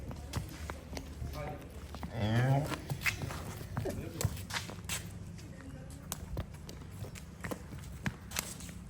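Hooves of a heifer clopping and shuffling on hard ground as it is walked out for viewing at a cattle sale, with people talking nearby throughout.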